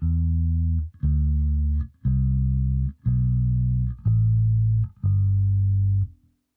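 Bass guitar running up and down a G Mixolydian scale in second position: six separate sustained low notes, each about a second long, played alone with short gaps between them and a clean, close tone.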